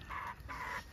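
Hens cluck in a small flock nearby, two soft bursts of clucking close together, fairly quiet with no talking.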